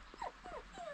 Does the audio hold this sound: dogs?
yes